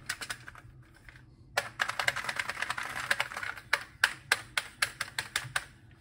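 Keys clatter on an Oril BK-08 computer keyboard nearby, first a few taps, then a fast burst of typing and a run of separate, evenly spaced presses.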